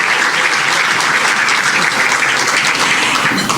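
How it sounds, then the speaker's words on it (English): Steady, dense applause from an audience welcoming a minister at an Australia Day community evening honouring students and graduates, loud and continuous throughout with no talk over it. "Can I have a round of applause for our Minister, Mark Corey?"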